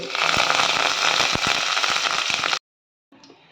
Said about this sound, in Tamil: கடுகு நல்லா பொரியட்டும் கடுகு நல்லா பொரிஞ்சிருச்சு